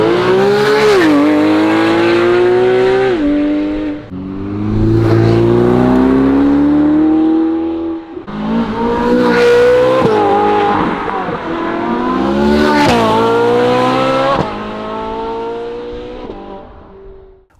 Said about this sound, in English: aggressive upshifts and aggressive downshifts on the gear changes that I put it into race mode